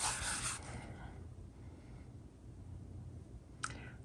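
Art materials rubbed onto paper for a random-colour artwork make a soft, continuous close-up scrubbing and rasping, heavier at the start, with a single sharp click near the end.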